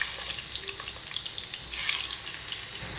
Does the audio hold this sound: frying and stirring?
yes